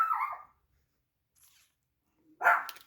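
A dog barks two short, sharp times with a quiet gap between, fairly faint in an otherwise still room.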